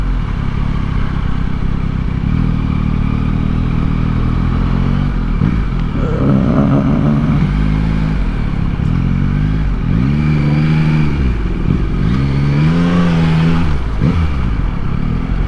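Yamaha MT-09 motorcycle engine rumbling up close while weaving through traffic, with repeated revs rising and falling in pitch over a steady loud drone.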